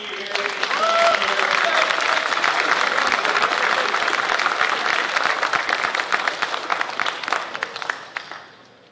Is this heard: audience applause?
yes